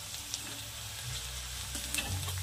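Onion fries in a pan with a steady sizzle and occasional stirring scrapes, close and even, with no speech.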